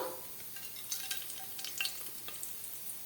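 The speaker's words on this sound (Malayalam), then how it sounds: "അതിലേക്ക് നമ്മുടെ ഈ പട്ട, ഗ്രാമ്പ്, ഏലക്ക, ബേ ലീഫും കൂടെ ചേർത്ത് കൊടുക്കാം കേട്ടോ" Cinnamon, cloves, cardamom and bay leaf frying in hot ghee for potato rice, a quiet close sizzle with small crackles and light stirring scrapes, no talking.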